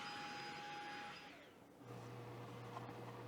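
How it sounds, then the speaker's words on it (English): A vacuum cleaner cleaning dust from an InWin Chopin Mini-ITX PC case whines loudly, then winds down and cuts off, followed by a lower steady hum that starts up after a brief lull. "Vacuum cleaner saving the day."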